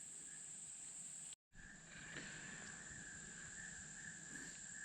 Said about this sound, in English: Well, the frogs sure are happy from the rain.